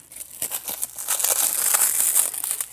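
Product packaging is cut open with a tool, producing close crinkling and tearing plastic noises in quick, uneven bursts.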